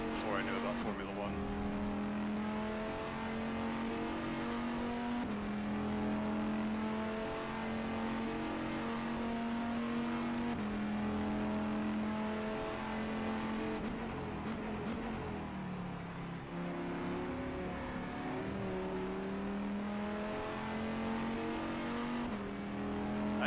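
Race car engine in the rFactor 2 sim racing game, a steady droning note that shifts pitch as it revs up and down through gears, heard under a voice talking throughout.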